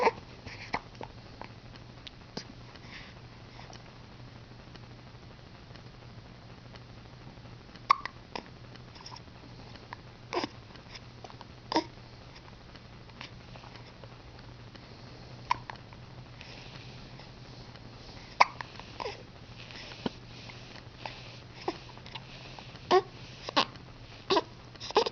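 A baby or young child hiccuping, a string of small, sharp, faint hiccups spaced irregularly over a low steady room hum, with no talking.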